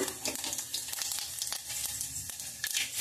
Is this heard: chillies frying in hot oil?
yes